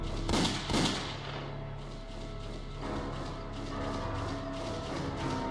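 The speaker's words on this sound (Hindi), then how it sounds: "और ये गन शॉट्स" Gunshots ring out in a shooting video game that involves downing terrorists: two loud shots in quick succession, then a steady electronic game backdrop with softer repeated firing.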